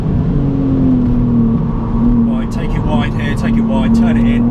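A BMW Z4 on a race track track day holds a steady engine drone with a sustained tonal hum near the cabin while someone talks over it, and brief tyre or wind noise flickers in the later seconds.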